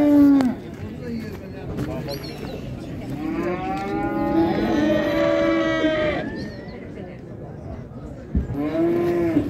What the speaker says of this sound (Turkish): o belə danalar var, saxlanıca gedən danalardır